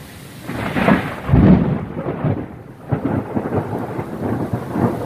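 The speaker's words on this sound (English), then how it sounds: "Thunder strikes right there." Rolling thunder rumbles loudly through a rainstorm at an outdoor tiger enclosure, with a heavy swell of low booming followed by steady rain hiss and smaller rumbles.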